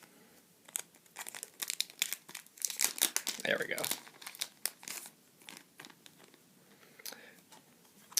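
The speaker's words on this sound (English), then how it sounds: "So we'll go back to the scissors again for this pack." Crinkly foil of a Pokémon Plasma Gale booster pack rustles and crackles in dense, uneven bursts up close, with a brief tearing stretch midway and a short spoken remark.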